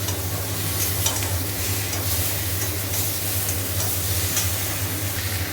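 Pointed gourd (potol) with salt frying in a pan, with a steady even sizzle and faint stirring that carries on without pause over a low constant hum.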